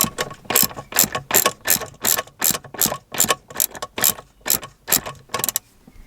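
A ratchet backs out long shifter bolts on a Renault Megane, giving a close, loud run of rapid clicking strokes repeated about a dozen times in an even rhythm, with no talking.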